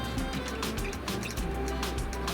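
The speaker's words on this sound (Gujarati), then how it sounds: "ત્યારબાદ તેમાં 1 થી 2 ગ્લાસ જેટલું પાણી ઉમેરી અને ઉકળવા દેશું" Water poured into a hot pan of spiced masala while cooking Kathiyavadi sev sabji, a steady hissing, splashing rush that runs close and continuous throughout, with no talk.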